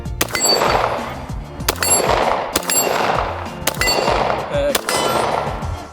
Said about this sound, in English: so we're gonna be shooting the hollow points